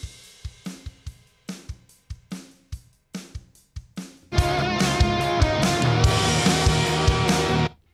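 Heavily compressed drums play back in Harrison Mixbus 32C: sharp, evenly spaced hits come first, then a loud, dense, sustained full-kit section runs until it stops abruptly near the end.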